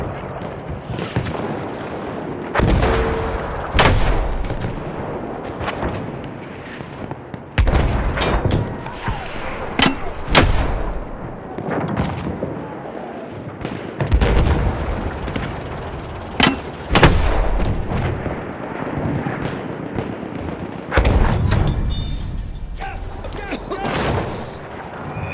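A Battlefield 1 mortar truck firing: heavy booming blasts and explosions recur at intervals amid scattered battlefield gunfire, with voices heard in between.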